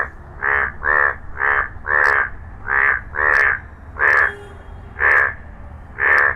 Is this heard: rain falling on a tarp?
no